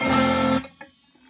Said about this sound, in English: Flange goes like this.